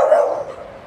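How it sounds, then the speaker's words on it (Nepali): Large dog in a park in Bugibba, Malta, giving one loud close bark that trails off quickly. "बाघ जस्तो कुकुर छ यार"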